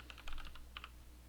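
Keystrokes on a computer keyboard while filling in a vaccination card form, a quick cluster of clicks followed by a pause and a couple more taps, faint and close against a low background hum.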